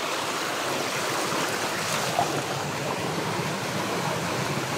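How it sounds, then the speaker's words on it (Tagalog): Water rushes steadily down a mountain stream, a constant close broadband hiss with no voices. "Tumatagas yung tubig."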